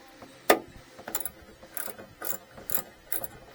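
A ratchet fitted with an offset wobble and a 1/2 inch extension works a bolt under the hood of a Rav4 Prime, giving a handful of short, close mechanical clicks spaced about half a second apart, with no talk.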